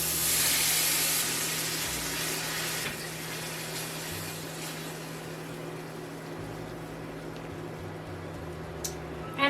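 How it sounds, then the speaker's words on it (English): A cup of beef broth poured into a hot pressure cooker pot over floured, browned bangers sends up a loud burst of steamy hiss that eases into a lower, steady simmering rush. "now I'm gonna add 1 cup of beef broth"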